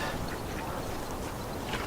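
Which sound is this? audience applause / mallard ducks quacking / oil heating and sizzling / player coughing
mallard ducks quacking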